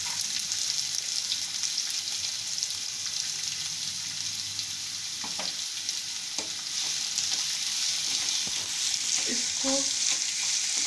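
Chopped onion frying in a pan for sabudana khichdi, a dense continuous sizzle with a few spoon knocks and stirs, close, and a brief spoken word near the end.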